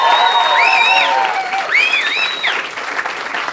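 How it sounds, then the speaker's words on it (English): Wedding guests applaud Caro in a dense, steady burst of clapping, with shrill whistles or whoops rising and falling over it before the applause thins toward the end. "let's have a round of applause for Caro"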